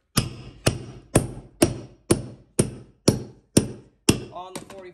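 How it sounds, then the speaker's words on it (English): Eight sharp hammer-tucker staple strikes drive a stair runner carpet onto an old house staircase, evenly spaced about half a second apart, close and crisp, each with a short ringing decay, and a faint rattle of handling after the last. "Every 2 inches, grab the hammer, tucker."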